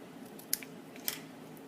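Scissors trim a paper sentiment for a handmade card with two short, crisp snips about half a second apart, close and quiet against a faint background.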